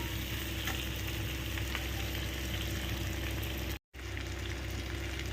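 Ingredients for chilli paneer with curry leaves frying in hot oil, giving a close, steady sizzle that crackles without pause and briefly cuts out near the end, with no one speaking.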